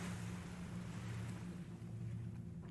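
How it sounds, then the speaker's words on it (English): Rain splashing onto open water, a dense, continuous wash of hiss and low rumble with a steady hum beneath, loud and close with no voices. "The sound of rain splashing on the water is loud."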